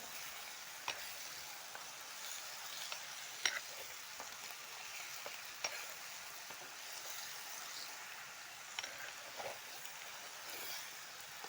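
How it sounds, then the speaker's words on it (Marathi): Fish frying in masala in a pot over an outdoor forest fire crackles with a faint, even sizzle, broken by occasional soft stirring knocks, and no one speaks. "आता हे मासा आपण टाकल्यानंतर चांगलं एकदम मस्त असं तळून घ्यायचे आतमध्ये हलवून घ्यायचं"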